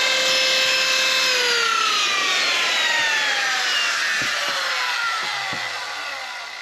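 A power tool with a bit engraving a wooden charcuterie board, a loud high whine that sweeps downward as it bites into the wood, with a few knocks near the end.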